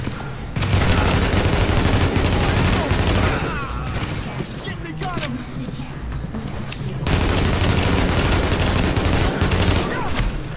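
Rapid, sustained automatic gunfire from a weapon in The Division, dense bursts running through most of the stretch with a brief dip in the middle, loud and close, with someone talking over it at times.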